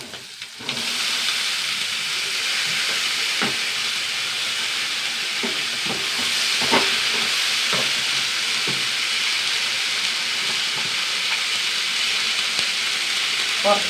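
Beans frying in a pan: a steady, loud broadband sizzle that starts abruptly and continues throughout, with occasional small pops and light stirring clicks, no talking.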